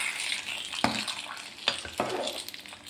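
Spices and asafoetida hiss and sizzle in hot oil while tempering for sambar, with a few sharp clinks of a spoon or pan cutting through the frying at close range.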